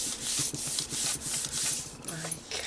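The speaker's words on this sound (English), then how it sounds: "really burnish that" A tool burnishes paper flat against a handmade postcard cover, making close, steady rhythmic rubbing strokes about twice a second with a soft raspy texture.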